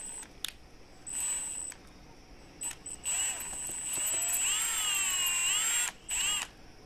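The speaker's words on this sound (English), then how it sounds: "So he's just drilling that out, making it a little bigger to go on the key ring." A power drill enlarges a hole in a fishing planer board clip so it fits a key ring, whirring in several close bursts of varying length with rising and falling pitch and short pauses between them.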